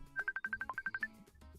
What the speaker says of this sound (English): Ooh, I'm getting phone calls.